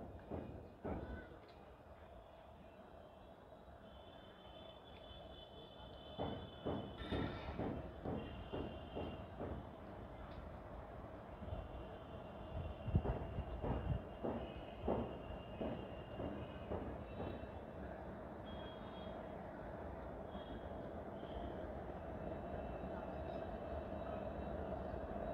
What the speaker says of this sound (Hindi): ट्रेन नंबर 0-54-93 जो है वो शाहगढ़ की तरफ से आ रही है।